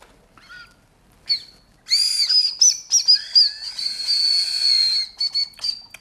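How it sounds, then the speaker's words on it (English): High, piercing whistles blown through a small badge, shrill and wavering, come in several bursts with short gaps, one held tone lasting a few seconds. "do you want to get one and see if you can whistle through it?"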